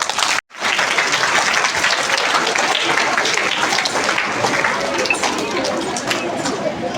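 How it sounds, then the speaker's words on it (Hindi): Audience applause at a school annual function ceremony, a dense steady roar of many hands clapping close by, broken by a brief gap near the start, with faint chatter underneath. "एक बार जोरदार तालियां"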